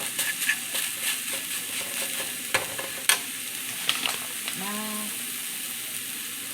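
Scrambled eggs fry in a pan with a soft continuous sizzle, broken by a few sharp utensil taps and scrapes; a voice speaks briefly near the end over the crackle.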